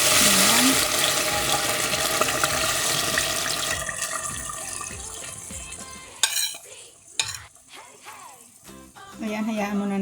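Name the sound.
pork adobo marinade poured into hot pan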